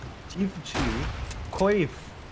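A grenade goes off in a video game match as a single heavy blast midway through, with people talking and exclaiming before and after it.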